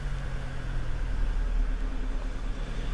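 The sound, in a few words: bus or van driving past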